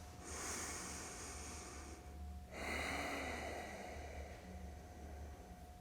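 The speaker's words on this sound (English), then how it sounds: "Breathe through it." Deep, steady breathing during a slow neck stretch in a calm yoga flow: a long airy breath, a brief pause near the middle, then another full, close breath with a soft nasal edge.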